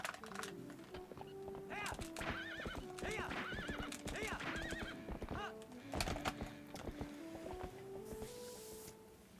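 A stampede in the Twilight Princess HD video game: galloping hoof clip-clops, neighing whinnies and thuds pile up in a loud, busy rush of game sound effects.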